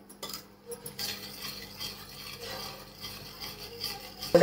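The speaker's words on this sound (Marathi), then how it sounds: "तर आता हा गुळ याच्यामध्ये टाकून घेते आणि चांगलं हलवून घेते" Jaggery is stirred into cow colostrum for kharvas, a spoon making soft, continuous scraping and swishing sounds against the vessel, close and fairly quiet, with a sharper knock at the very end.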